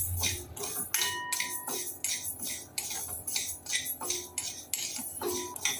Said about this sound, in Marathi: आपण मेथी भाजून घेऊया।